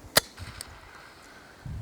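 A single sharp, snappy shot from a homemade training grenade launcher pops out near the start, followed by a faint second click and a low thump near the end against quiet background.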